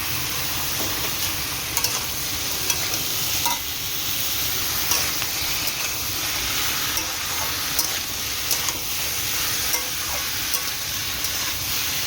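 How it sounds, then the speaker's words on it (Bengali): Potatoes frying in a pan give a steady, close sizzle and hiss that runs continuously, broken by faint scrapes and taps from stirring. No one speaks. "আলুটাও ভাজা হয়ে যাবে।"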